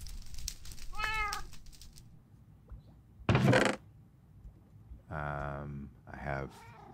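Cats in the Minecraft video game give a few short, separate meows: one near the start and more later, between quieter stretches. A sharp noisy burst falls in the middle.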